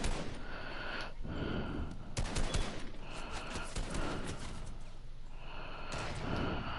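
Rapid gunfire bursts in a shooter video game, loud and close with repeated volleys and sharp cracks over a busy background of game ambience.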